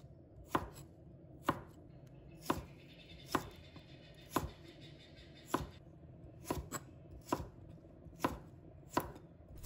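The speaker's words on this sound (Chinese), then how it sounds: "所以我们稍微的切厚一点点，因为本身它就比较鲜嫩，切成这样炒制的时候更容易熟" A knife slicing fresh asparagus on the diagonal into slightly thick pieces on a cutting board, with a dozen crisp, evenly spaced chops landing about once every three-quarters of a second.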